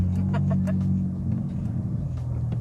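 Engine growl from a 2015 Volkswagen Up! TSI Move accelerating, a steady low rumble heard from inside the car, fairly loud and continuous for under three seconds with no talk.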